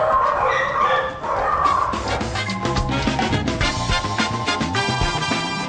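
Several dogs, including Pomeranians and poodles kept at a Thai palace, bark and yip continuously and fairly loudly in a busy, overlapping chorus.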